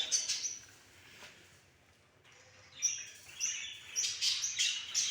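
Small bird chirps and tweets in short bursts, fairly close, with a quiet pause midway before the chirping picks up again.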